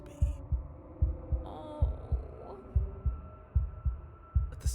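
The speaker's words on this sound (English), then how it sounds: "a wooden and fleshy heart beating with an unbroken rhythm" A wooden and fleshy heart in Slay the Princess beats in a steady, unbroken rhythm of loud, close, deep thumps under a low hum, with a brief exclamation from a voice early on.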